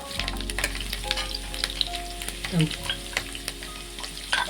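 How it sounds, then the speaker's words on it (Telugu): Onion and curry leaves fry in hot oil for a fish pulusu, crackling and sizzling loudly and close, with spoon stirring clinks scattered through. "కొద్దిగా ఉల్లిగడ్డ మిక్సీ కొద్దిగా మంచిగా ఆయిల్లో వేగిన తర్వాత కరివేపాకు వేసుకోవాలి"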